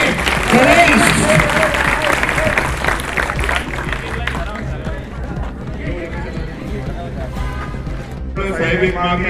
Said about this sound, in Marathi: टाळ्यांचा आवाज कमी झाला नाही पाहिजे